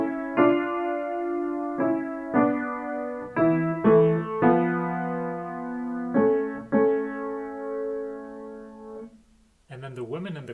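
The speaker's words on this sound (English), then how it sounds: "I have the men sing a little louder, so the tenors and basses" Choir with tenors and basses louder carrying the melody, a series of held sung chords in separate phrases, full and clear, ending with a short burst of a different sound at the close.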